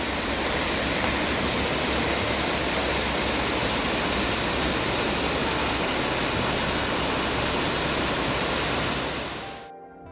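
A waterfall in front of Meenkunnam church, near Muvattupuzha in Ernakulam district, gives off a steady, dense roar of rushing water that stays even and loud throughout before cutting off at the end.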